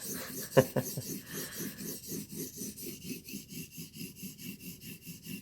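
A knife blade strokes back and forth over a sharpening stone in an even, regular rhythm of gritty, crunchy rasps, close up, with a couple of sharper clicks near the start.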